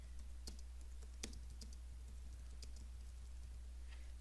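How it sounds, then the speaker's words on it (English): Sparse keyboard clicks as someone types a word on a computer keyboard, light and close against a steady low hum, with no talking. "So I'm gonna just I'm gonna type in here"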